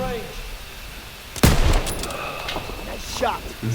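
Gunfire in the WW2 game Liberation, a sharp close burst of shots followed by continuing rattling fire and battle noise, with a voice speaking over parts of it.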